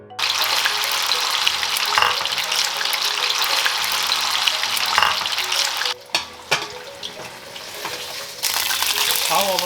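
Beef sizzling loudly in a hot wok while cooking for Hong Kong style dry-fried beef chow fun, a steady close fry with brief drops as the pan is moved, then the sizzle resumes.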